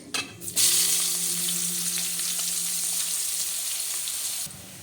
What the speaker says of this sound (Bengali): পেঁয়াজটা ভাজা ভাজা হয়ে গেছে